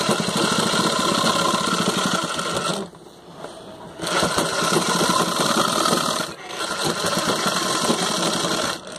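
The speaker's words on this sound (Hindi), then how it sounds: "अब इस पर चाप सिलाई मोड़ करके किया जा रहा है।" A sewing machine stitches a jeans zip fly in fast, loud, rhythmic bursts, pausing briefly twice before running on again.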